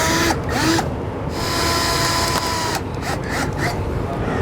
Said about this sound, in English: we're going to drill out the center.